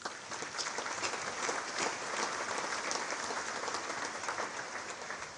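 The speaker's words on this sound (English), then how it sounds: "let's make an applause to the FIFA administration" Applause from a large congress audience for the FIFA administration, a dense, sustained roll of many hands clapping at an even level, somewhat distant and muffled.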